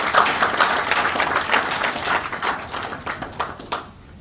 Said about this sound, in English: they deserve a big round of applause for this